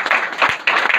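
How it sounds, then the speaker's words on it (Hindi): An audience at a safety training program applauds, a dense, close wash of many hands clapping at steady volume throughout the brief moment. "आप लोग के लिए एक जबरदस्त ताली होना चाहिए।"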